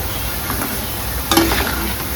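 Chicken pieces with ginger paste sizzling and crackling softly in a pan, steady and close, with a brief clatter of stirring partway through.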